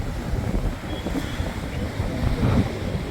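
Strong wind gusts across an open outdoor spot, producing a continuous, loud rumbling buffet with surges throughout and no voices.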